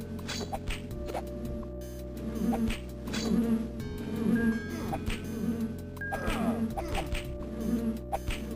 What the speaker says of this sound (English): Giant bees here.